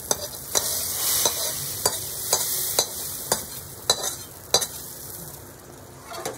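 A cooked mixture is stirred into chana masala in a pan, with a spoon scraping in a steady rhythm of sharp strokes over a continuous sizzle, close and fairly loud.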